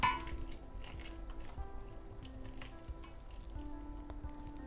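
Spoonfuls of onion bhaji (pakora) batter frying in hot oil: a steady low sizzle and bubbling runs throughout. Spoons clink and tap now and then, close and fairly quiet, with no talk.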